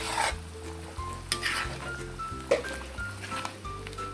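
Smoked fish (tinapa) goes into a pot of mixed vegetables simmering in coconut milk, with soft stirring, squishing and a gentle sizzle under a steady low hum, close and moderately quiet.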